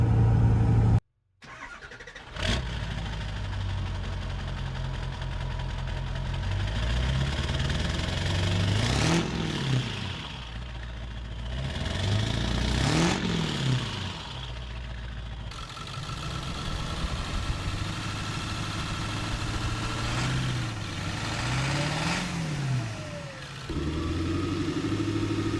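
Ford 7.3 turbo diesel truck engine running steadily while driving in third gear, with a continuous close drone that swells and eases in several broad surges, no voices.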